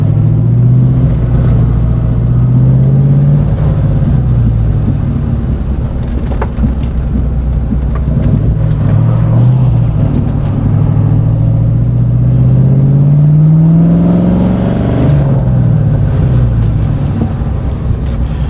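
Lincoln Aviator engine-swapped Mustang GT accelerating hard with a deep, loud engine roar that climbs and falls through gear changes, rising again near the end, continuous throughout with no talking.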